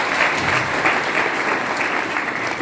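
Funeral mourners in Foundiougne applaud together, a steady, dense clapping from a crowd that fills the whole stretch at even loudness with no talk over it.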